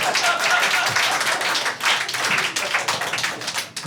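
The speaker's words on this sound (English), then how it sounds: "Liberal smattering of claps." At a stand-up comedy show, a thin smattering of audience claps rises and fades, a few scattered hand-claps rather than full applause.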